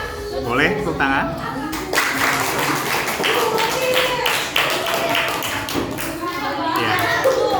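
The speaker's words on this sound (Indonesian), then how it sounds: "Boleh tepuk tangan?" Students clap in a school classroom after a biotechnology presentation, with uneven, scattered handclaps and taps mixed with children's voices and chatter throughout.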